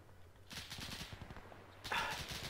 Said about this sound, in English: Oh crap, machine gun.